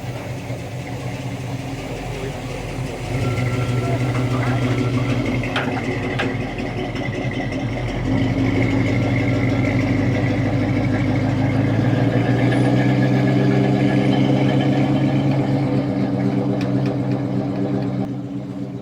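A supercharged Chevy truck engine idles loudly and close at an outdoor truck show, a steady rumbling drone that briefly steps up in level, with no talking over it.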